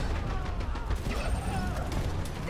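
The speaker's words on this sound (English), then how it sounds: "Rail carriage is destroyed." In the online shooter Dirty Bomb, a rail carriage is destroyed amid a dense, loud wall of crashing, explosive and gunfire-like noise that runs without a break.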